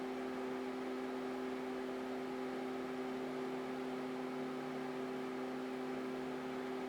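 A Dynatron aftermarket CPU cooler fan in an Alienware R8 desktop runs loud and steady, a constant whooshing airflow with a strong tonal hum throughout, no breaks or talk.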